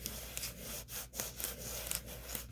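Hand rubbing hard over the dry paper backing of a decal, a close, continuous scratchy scrubbing with rhythmic back-and-forth strokes and brief pauses, nothing else audible.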